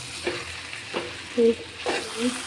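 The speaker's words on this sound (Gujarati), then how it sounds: "હું તેને ધીરે ધીરે આ રીતના હલાવી લઈશું જેથી કરીને આપણા છૂટા થાય પૌવા" Poha (flattened rice) stirred slowly in a pan with potatoes, giving a few soft, spaced scraping strokes over a faint sizzle, close and fairly quiet.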